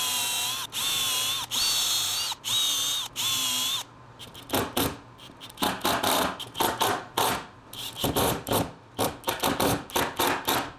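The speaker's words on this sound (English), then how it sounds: "I'm going to use these construction screws to fasten it onto the particle board." Power drill driving coarse-thread construction screws into particle board: four steady whirring bursts of the motor, then a series of sharp clicks and short ratcheting knocks, close up with no talk.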